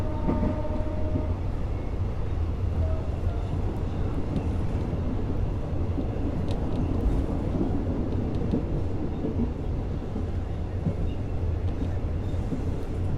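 A moving train gives off a continuous loud rumble and rattle that stays close and steady throughout, heard from the rear carriage with no talking.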